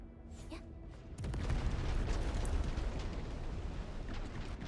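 A bomb detonates in Arknights: Endfield, a loud broadband blast that swells abruptly and then rumbles on steadily for several seconds, with faint talk early on.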